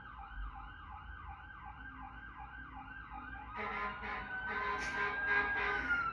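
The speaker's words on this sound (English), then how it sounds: "cars with sirens." Wailing emergency vehicle sirens: one sweeps up and down steadily, then a second, harsher siren joins with passing traffic noise as the vehicles draw closer.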